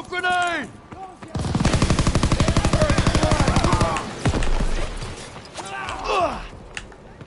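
Rapid automatic gunfire from a World War II shooter game, a steady burst of about two and a half seconds, with gasps and grunts around it and a few scattered shots after.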